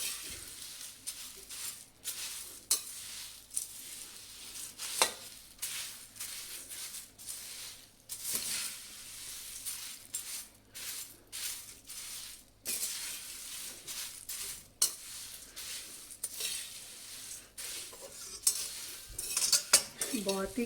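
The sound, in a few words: stirring oats and cornflakes mixture in a pan on low flame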